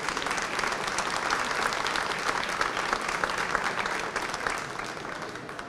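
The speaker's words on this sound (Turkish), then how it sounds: "İbrahim Bey'in ekibine şöyle güzel bir alkış rica ediyorum size" An audience applauds İbrahim Bey's team at a Turkish event; steady, dense clapping from a large crowd fills the room, sustained and even throughout with no pauses.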